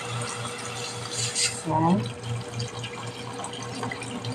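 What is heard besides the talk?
pouring water into a pot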